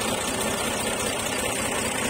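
A tractor engine idles with a steady, continuous mechanical drone that holds an even level throughout, close by and with no talking.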